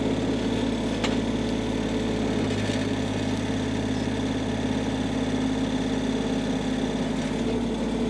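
The engine of a Groundhog KH25D mini-excavator with a 16-inch bucket and side cutter runs at a steady, loud, unbroken drone, with a faint clink near the start.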